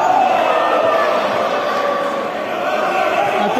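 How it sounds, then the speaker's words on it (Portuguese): A futsal crowd at a Liga Sul-mato-grossense match in 2021 chants in support of the team, a steady dense wash of voices filling the hall at moderate distance, with commentary speech running over it. "A torcida das minhuças ali já ensaia os gritos de apoio à equipe."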